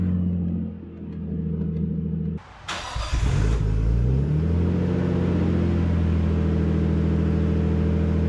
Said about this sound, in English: We're in the Skyline now. Make sure it's in neutral, of course. We'll start her up.